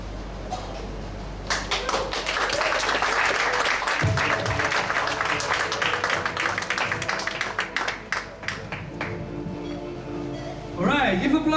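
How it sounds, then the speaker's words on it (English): An audience applauds a poetry performer at a grand slam competition, with loud, dense clapping that swells and then thins toward the end, while a voice talks over it near the close. "give applause to Bulan"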